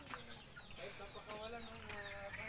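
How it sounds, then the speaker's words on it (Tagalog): Chickens cluck and murmur nearby in a busy, continuous jumble, with faint voices in the background. "Mga manok."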